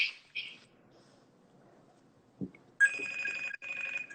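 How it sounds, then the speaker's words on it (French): A phone ringtone chirps twice in short electronic bursts, then returns after a soft thump as a louder, sustained warbling ring. Indoors during a casual live chat, with no talking over it. "C'est quoi ce téléphone?"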